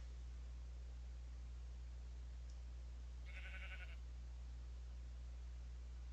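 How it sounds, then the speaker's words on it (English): A single short sheep bleat from Minecraft rises once over a steady low hum and hiss, brief and moderately clear, with no talk over it. "Sheep."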